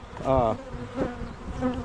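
Package honeybees buzz steadily inside a five-frame nuc hive, a harmonic drone swelling loud at first, then a softer continuous hum with brief rises, close to the hive.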